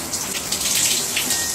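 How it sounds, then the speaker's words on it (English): A running shower sprays steadily and loudly in a bathroom, a close, continuous hiss of water with slight splashing fluctuations. "Alright, let's shower for real."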